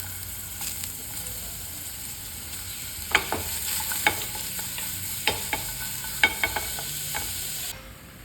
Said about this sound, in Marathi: आपण ह्यामध्ये मशरूम टाकणार आहोत म्हणजे मशरूम थोडीशी शिजतील